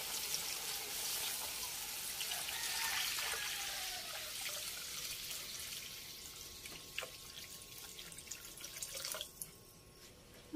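Water runs steadily into a cooking pot for pancit habhab with a broad splashing hiss, gradually quieting, followed by a few small clinks and drips near the end.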